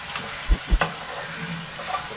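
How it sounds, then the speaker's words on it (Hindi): A paste of garlic, tomato and onion sizzles softly in a light karahi, with a couple of dull stirring knocks near the start over a steady frying hiss. "अब मैं इसमें डाल दूंगी पेस्ट, लहसुन और टमाटर और प्याज का पेस्ट।"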